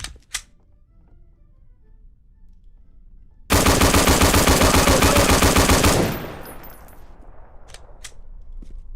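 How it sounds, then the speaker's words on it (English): Rapid gunfire in a video game, a sniper rifle, bursts out loud in a dense, fast stream for a few seconds after near silence, then fades into quiet background noise. "I am so bad at using a sniper rifle."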